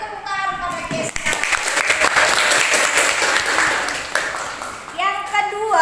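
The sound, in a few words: applause for Keisha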